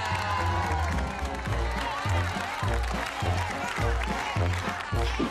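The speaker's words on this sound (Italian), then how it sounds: "Facciamo tutti un grandissimo applauso a mia cugina direttamente da Milano, Elena!" A crowd at a film festival in Bovino claps and cheers over a pulsing music beat, with some whoops mixed in, loud and sustained throughout.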